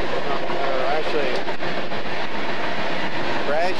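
BNSF coal train passing on the line between Grand Island and Bradshaw in December, a loud, steady roar of rolling wagons with rhythmic clatter throughout, close by.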